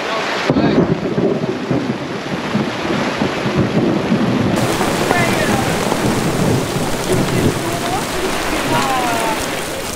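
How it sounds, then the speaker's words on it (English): Heavy rain pours and hisses loudly and continuously while low rumbles of thunder roll beneath it, close and enveloping. "we're just having a little bit of shelter right now because we have a little thunderstorm"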